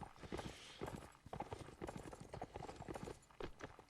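Horse hooves clip-clop in a steady irregular gallop across a Napoleonic Wars line battle in a video game, quiet and sustained, with several overlapping hoofbeat patterns.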